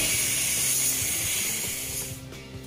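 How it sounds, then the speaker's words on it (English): Silicone spray hissing steadily onto the guide channel where a car's rear door glass slides, a continuous close-up broadband spray that tapers off near the end amid faint mechanical rattles. "using a silicone spray, the part where the rear glass slides on"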